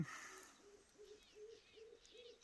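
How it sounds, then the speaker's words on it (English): Doves coo softly in the distance, a regular series of six low hooting notes over faint outdoor ambience. "Oh, those are doves."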